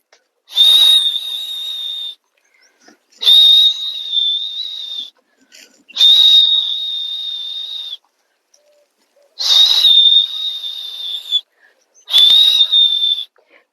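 A person blows a whistle to herd goats, sounding five loud, close, steady high-pitched blasts of about two seconds each, separated by short pauses.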